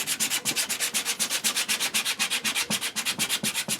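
Rhythmic back-and-forth sanding strokes on an applewood bowl, rapid and even, close up with a scratchy rasp on each pass.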